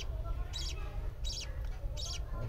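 A pet budgie, the hen that laid eggs, gives three short bright chirps at even intervals over a low steady background hum, fairly close but not loud.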